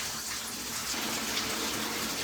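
Water gushing from a tap into a small bathtub inside a van, filling for a bubble bath; a loud, continuous close rush that stops abruptly at the end.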